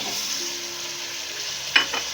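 Eggplant and potatoes sizzle steadily in hot frying masala, a continuous close hiss with a brief stirring scrape near the end.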